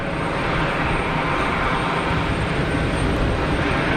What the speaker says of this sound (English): Nice Gulfstream on the taxi.